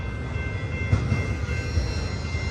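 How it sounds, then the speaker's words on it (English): A BNSF Z freight train rolls past on Cajon Pass, a steady loud rumble of wheels and cars with faint clicks, continuous and close throughout with no talk. "Yep, typical Z train"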